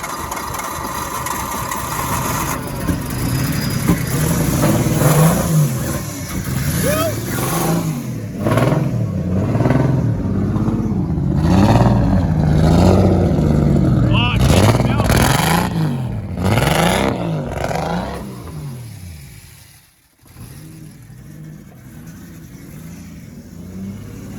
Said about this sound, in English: You guys just seen the car fire up.